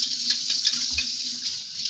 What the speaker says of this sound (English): It sounds like some water running, possibly.